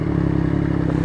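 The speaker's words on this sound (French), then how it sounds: "elle fait trop de bruit cette putain de moto de merde" A noisy motorcycle engine runs close by with a steady, loud, rough drone and a fast rattling pulse, unbroken for the whole second.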